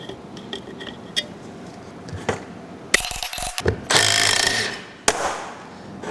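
Ratchet turning a spiral socket during the teardown of a Willys Jeep Dana 25 axle: scattered light metallic clicks, then two louder, dense rasping bursts of ratcheting close to the microphone.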